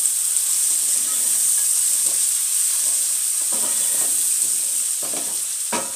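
Onions fry in a pan with ginger and garlic paste for a Kenyan tripe stew, a steady close hiss and sizzle with a few scraping stirs toward the end.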